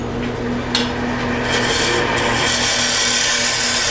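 Steady, continuous scraping and rasping of a lathe tool cutting a tenon into spinning wood for a hollow ornament, with a constant low motor hum underneath, growing slightly brighter and louder partway through.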